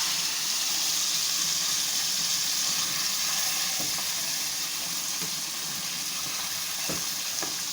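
Chicken karahi sizzles and fries steadily in a pan over lowered heat while being mixed, a continuous close crackle with a few faint scraping clicks of the spoon.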